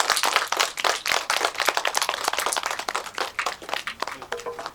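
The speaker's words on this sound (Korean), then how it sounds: "큰 박수로 무대로 모시도록 하겠습니다" Steady audience applause fills a cinema as short film directors are welcomed onto the stage for a post-screening talk, dense overlapping claps sustained throughout at moderate loudness.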